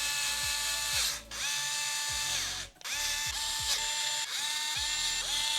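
A power tool drives screws into plastic climate control knobs on a Toyota 4Runner, its motor whirring in repeated short bursts with ratcheting clicks between them, loud and close.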